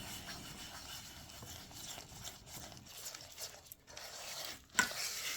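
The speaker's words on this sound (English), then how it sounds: "Now let's get it all stirred up." A spoon stirs a thick mixture of corn syrup and applesauce in a bowl, soft close scraping and sloshing with uneven rhythm and a sharper knock near the end, quiet and without speech.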